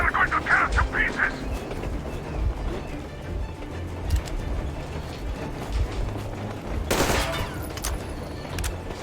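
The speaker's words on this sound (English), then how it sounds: "I'm shooting you personally through your forehead, you damn criminal!" Gunfire in the video game Metro Exodus, scattered bursts and single shots crackling over a busy battle backdrop, with one louder close volley late on.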